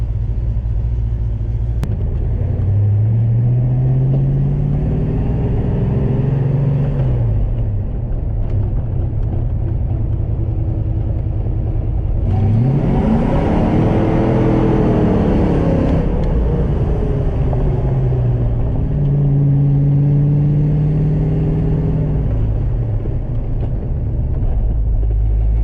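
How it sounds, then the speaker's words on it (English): A 1990 Fox Body Mustang with mild bolt-on upgrades accelerates hard and burns rubber. Its V8 roars loudly as it climbs repeatedly through the revs, with a deep rumble throughout and a surge of tire noise in the middle. "Burning rubber, guys. She is burning rubber."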